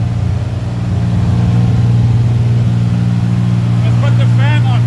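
A restored 1938 Jaguar SS 3½ Drophead engine idling up close, a loud, steady low rumble that swells slightly after the first second, with a voice speaking briefly over it near the end.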